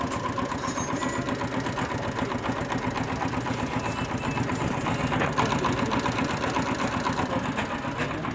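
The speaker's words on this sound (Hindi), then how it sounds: "इंजन की आवाज़ मैं आपको सुना देता हूँ।" A faulty Hero 70cc motorcycle engine runs steadily, giving a continuous rapid mechanical chatter with knocking and rattling, fairly close and without any talk.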